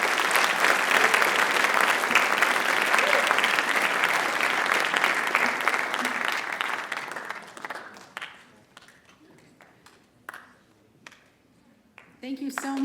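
A large audience at a writers' expo applauds loudly and steadily, then the clapping thins out and fades to scattered claps before a brief swell at the end.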